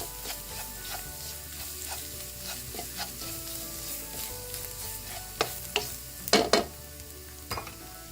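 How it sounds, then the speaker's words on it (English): Garlic pepper chicken masala with coriander powder frying on low flame in a pan, a soft steady sizzle broken by several sharp scraping stirs and clacks of the spoon near the end. "Again, stir it on low flame. You want it to fry nicely."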